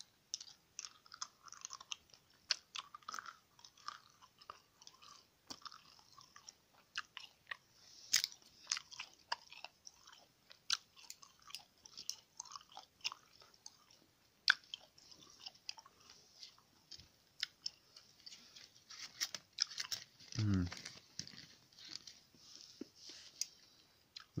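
Caffeinated chewing gum with B vitamins, like Extra, is chewed close to the mic: soft wet smacks and clicks repeat steadily and quietly for a long stretch, with no talking.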